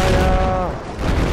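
Gunfire in the Battlefield video game, a short loud burst of shots with a booming tail, close and dense, under game noise.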